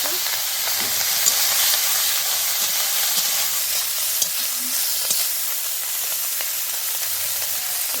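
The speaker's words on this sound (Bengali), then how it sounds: "শুকনো ঝাল আলু দিলাম ভেজে নেব" Potatoes crackle and sizzle in hot oil with dried chillies, a steady frying hiss with occasional soft pops and stirring, no voices.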